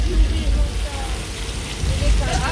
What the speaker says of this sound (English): Looks like they turned on the flash flood sequence.